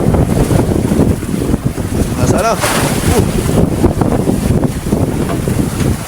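Strong wind roars and buffets the microphone outdoors at sea while tuna fishing, with a short spoken question partway through.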